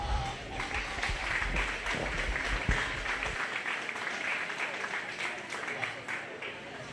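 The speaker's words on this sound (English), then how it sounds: "Give these exhibitors a round of applause." An audience at a 4-H/FFA swine show applauds the exhibitors, a sustained round of clapping that runs under an announcer's voice on the PA.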